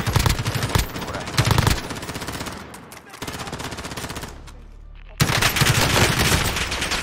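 Rapid automatic gunfire in Call of Duty: Warzone rattles in loud, dense bursts with a brief lull in the middle, close and continuous, with voices faintly mixed in.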